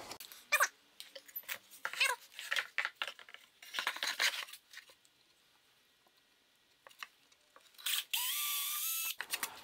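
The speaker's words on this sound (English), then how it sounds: "we need to drill a hole for the blade of the saw to come through" A power drill with a larger bit bores a hole through scrap wood, with scattered knocks and handling noises first, then a steady, close whirring drill run near the end.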